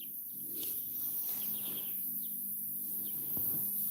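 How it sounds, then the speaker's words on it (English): Faint chirps and short calls from birds scattered through a quiet outdoor background, with a low steady hum underneath. "I'm happier when I listen to the birds"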